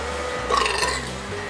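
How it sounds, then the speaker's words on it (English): A single deep, drawn-out human belch, close and loud, heard alone. "starting to work on my belching."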